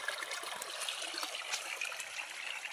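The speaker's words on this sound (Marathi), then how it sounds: "सगळीकडे पाणी चाललंय दांडाने." Irrigation water flows through furrows in a sorghum field, a faint steady trickling and gurgling rush heard alone, no talking.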